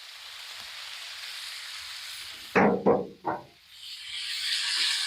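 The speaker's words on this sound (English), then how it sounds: "So we're going to dump in this little mix that we diced up with the peppers and the onions and the bacon." Diced peppers, onions and bacon are dumped onto a hot Blackstone griddle at about 354 degrees. A steady sizzle builds into a few loud bursts of frying as the food lands, then settles back to a continuous crackling hiss.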